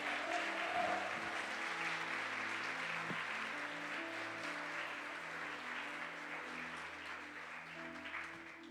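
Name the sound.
congregation applause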